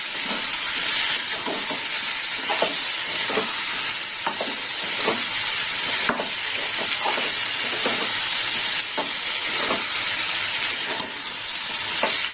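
A vegetable stalk curry with potatoes frying in a pan, a steady loud sizzle and hiss with repeated scraping stirs in an uneven rhythm, close up and without talk.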